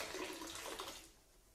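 Jetted bathtub cleaner pours from a measuring cup into a tub, a steady splashing liquid stream that runs for about a second before tapering off.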